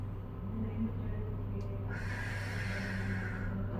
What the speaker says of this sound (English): Breathe in, blow out.